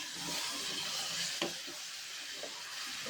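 Chicken and potato pieces sizzle and fry in a pan, a continuous close hiss with a few soft stirring knocks and no talk.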